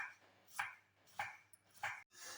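A knife chops an onion, cut in half and then into short pieces, on a board in a home kitchen, four faint evenly spaced strikes with quiet pauses between them.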